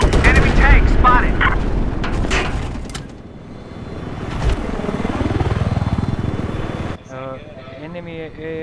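In a Battlefield-style match on Caspian Border, loud rapid gunfire opens the scene, then a helicopter's rotor drone sweeps past in a rising and falling pass, followed by a voice speaking.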